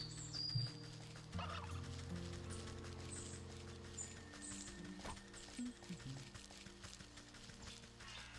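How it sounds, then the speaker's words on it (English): Turkeys gobble in the video game Wytchwood, repeated fowl calls over light game ambience with faint clip-clop footsteps, a few seconds of rising and falling gobbling. "Turkeys."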